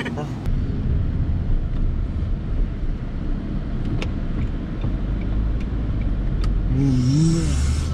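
A car on the road during a driving-test challenge, heard from inside as a steady low engine and road rumble with wind noise throughout, while people talk over it and a brief tonal sound appears near the end.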